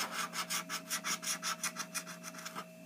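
A coin scratches a Georgia lottery scratch-off ticket in a rapid series of rasping back-and-forth strokes, close up and fairly quiet, with no talking.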